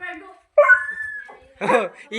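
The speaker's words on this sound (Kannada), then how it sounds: "ಏನೋ ನೀನು ಬಂದೇಟ್ಗೆ ನಾಯಿನೂ ಬೊಗ್ಳುತ್ತದಲ್ಲೋ" A dog gives a few short barks and whining yelps in separate bursts, close by and fairly loud, with quiet gaps between them.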